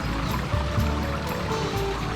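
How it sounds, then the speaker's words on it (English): Excess canal water pours into a culvert beside a lock cottage on the Worcester and Birmingham Canal. The rushing flow is steady and fairly loud, with no voices. "Excess water is diverted into culverts, such as this one near a typical lock cottage."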